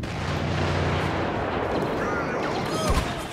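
Dense gunfire and explosive blasts from a Star Wars Battlefront battle, a steady loud barrage with a heavier boom near the end, with a voice faintly underneath.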